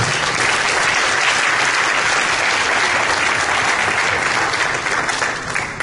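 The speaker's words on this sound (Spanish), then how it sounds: "Hay un aplauso a mi Señor por eso" A church congregation applauds, a broad sustained wash of clapping from a large group that stays loud and even throughout, with a slight dip near the end.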